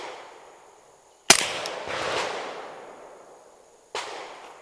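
Suppressed gunshots at an outdoor range, two sharp cracks several seconds apart, the first followed by a long fading echo across the open space.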